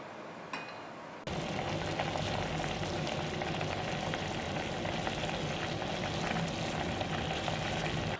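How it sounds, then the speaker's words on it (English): Sugar syrup boiling on a medium-low flame for homemade boba tapioca pearls, giving a steady, close bubbling sizzle that starts abruptly after a quiet moment and holds at a constant level. "Now again we're going to boil this in medium low flame for 5 to 6 minutes"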